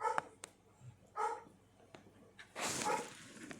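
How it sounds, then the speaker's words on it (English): A 13-year-old light-colored service dog nearing retirement gives a few short barks and whimpers at close range, spaced out with quiet gaps between them. "One is my service dog, the light colored one"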